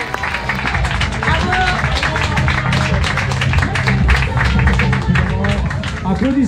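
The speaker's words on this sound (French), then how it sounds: "la photo officielle de ce trail de minuit 2023 sous vos applaudissements." A crowd claps steadily at the midnight trail race podium in 2023 during the official photo, dense sustained applause with some chatter beneath it.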